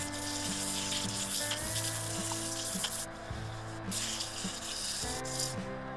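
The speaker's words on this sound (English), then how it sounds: "you can hear the air coming out on the wood more than you can the compressor." A continuous airy hiss of compressed air blowing against wood, with faint knocks and a low background hum throughout.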